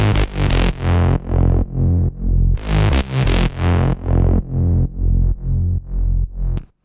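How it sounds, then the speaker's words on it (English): Thick Reese bass line built from two layered basses in Serum for a techno track, pulsing in a steady rhythm of sustained, buzzing notes, loud and upfront with no voices. "which together form a really fat Reese bass,"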